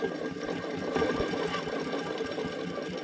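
Worn alternator on a boom lift running steadily, a continuous whirring, buzzing mechanical drone with fast regular pulses, close and moderately loud, with no talk.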